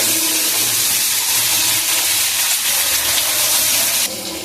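Taro, potato, green chillies and tomato fry in a pan while being stirred, giving a loud, steady hiss of sizzling oil with faint scraping, close and continuous.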